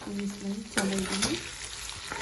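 Spiced wild boar meat fries and gets stirred, a continuous close sizzle with a few scraping stirs. A voice briefly sounds over it.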